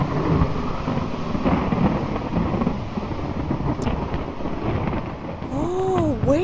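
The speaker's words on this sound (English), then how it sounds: "You see the thunder and lightning?" Rolling thunder rumbles steadily through a stormy scene in a VRChat tornado simulation game, with wind and rain noise throughout and a few whooshing sweeps near the end.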